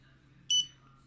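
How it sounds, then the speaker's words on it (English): An Andoer A360II 360-degree camera gives a single short electronic beep, clear and close against a quiet room. "And it makes a beep."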